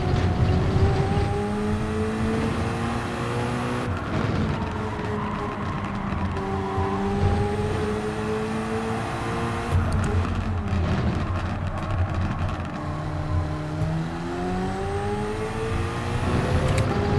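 A race car engine in Gran Turismo 7 roars and revs continuously, its pitch climbing and dropping with gear shifts, loud and close with no talking.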